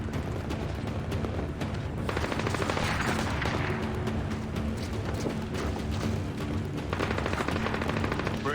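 Sustained gunfire erupts in the video game Splinter Cell: Blacklist, with dense automatic bursts and heavy booms layered into a continuous loud barrage throughout.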